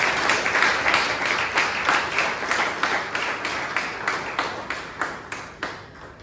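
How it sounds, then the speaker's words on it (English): Applause from the audience at a Bangalore Toastmasters club meeting, greeting the club president; a modest scatter of claps repeating steadily for about six seconds, fairly close and moderately loud, with no talking over it. "Please give our President, Srinivas, a huge round of applause."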